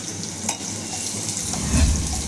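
Two finely chopped onions stir-fried in a pan give off a steady, soft sizzle and crackle, with a few stirring scrapes and a brief thicker burst near the end, and no talk.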